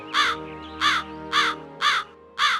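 A cartoon crow caws five times in an evenly spaced, loud, harsh series, each call short and nasal against near silence.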